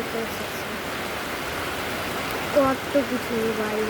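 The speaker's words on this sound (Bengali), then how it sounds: "ভয়ানক বৃষ্টি পাচ্ছে" A constant hiss of heavy rain fills the air, steady and even, with a person briefly speaking near the end.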